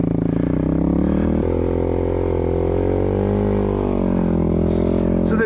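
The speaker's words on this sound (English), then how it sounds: "So my quad's working pretty hard, as you can tell from the noise." A Suzuki LT-R450 quad racer on Maxxis RAZR snow tires labors hard through snow, its engine droning loud and steady with harmonic tones that rise and fall slightly under load, close up for the whole stretch.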